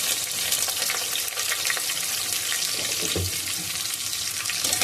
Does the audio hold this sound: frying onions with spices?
yes